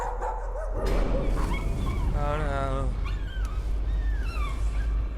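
Dog barking and whimpering from the horror video game Layers of Fear, a few close yelps and barks mixed with a voice talking over them.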